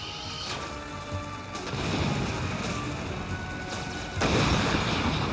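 Gunship attack in the MIB mobile video game rumbles with heavy booming fire and crashes, the loudest blast arriving near the end.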